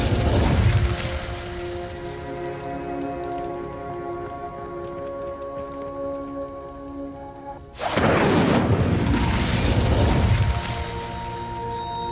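A fire spell cast in Hogwarts Legacy: a loud whooshing, crackling burst at the start, a sustained tonal magical hum, then a second roaring, rushing blast that swells and fades near the end.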